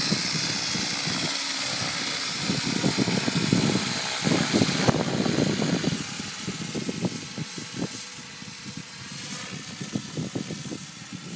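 A rough, heavy Ford Fusion car engine rumbles steadily up close, chugging with an uneven, tractor-like knock for the whole stretch.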